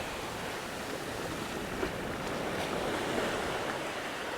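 Strong wind blows steadily across a windswept beach at Bamboo Beach on Koh Lanta, Thailand, a broad continuous roar with surf washing underneath, no voices present.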